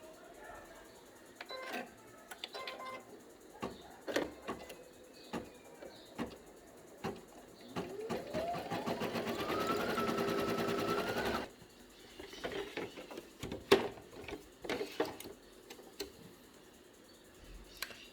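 An embroidery machine sews a second seam on fabric for a unicorn comforter toy, a steady rapid mechanical whir running for several seconds mid-clip, framed by scattered clicks and handling knocks before and after.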